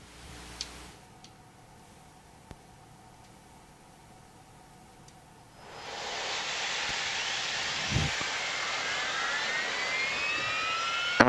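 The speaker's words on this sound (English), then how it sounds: "I'm going to get the engine started real quick here." IAI Westwind 1124 business jet's engine spooling up in a flight simulator game: a quiet hum and faint clicks, then a loud steady broadband roar with a rising whine that holds to the end.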